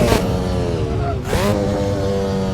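A car engine revving high and bouncing repeatedly off its rev limiter, producing a loud, steady harmonic drone with a brief dip and surge in pitch around the middle.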